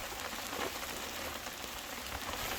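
Hard rain drumming steadily on an umbrella on a Colorado Trail hiking section, a dense, continuous close patter with no pauses and no voices.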